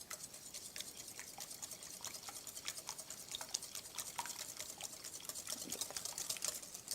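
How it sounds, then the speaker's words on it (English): Pumpkin and eggs being whisked together in a bowl for homemade dog treats, a steady run of quick light clicks and taps from start to finish, fairly faint and with no talking. "Just whisk it until it's smooth."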